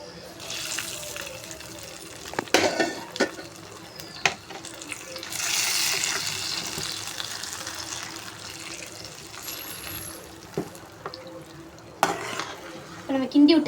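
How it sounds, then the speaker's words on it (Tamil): Kesari being stirred in a pan, with intermittent scraping and swishing strokes over a soft, steady background and a few sharper knocks against the pan. "நம்ம கிண்டி விட்டுக்கலாம்."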